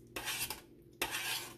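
A spoon stirs taco soup in a metal pot, giving two short scraping clinks followed by a longer stroke, close and fairly quiet with no talk.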